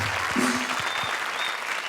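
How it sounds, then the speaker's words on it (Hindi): Studio audience applause on a televised comedy show stage, a dense steady wash of clapping lasting about two seconds with no talk over it. "जोरदार तालियां।"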